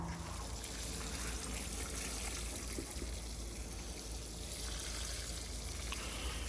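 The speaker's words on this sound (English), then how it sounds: "I'm using this little watering can just because I want it to be gentle" Water pours from a small watering can onto a worm bin in a steady, gentle trickle for several seconds, a continuous soft splashing stream close by with no talking.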